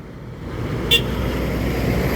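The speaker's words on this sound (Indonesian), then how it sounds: "Ada satu unit lagi bus dari Sumbar." Bus from West Sumatra driving along a road, a steady low rumble of engine and traffic noise with a brief high horn toot partway through.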